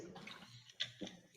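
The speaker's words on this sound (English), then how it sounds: "Do you guys hear me drinking?" Close-miked water drinking and swallowing, faint and brief, with a couple of soft gulps and a wet gurgle near the end, no talking.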